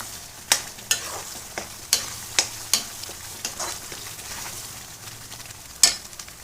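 Tomato pickle simmers in oil on low heat, giving a soft, steady sizzle broken by several sharp clacks of a spoon against the pan.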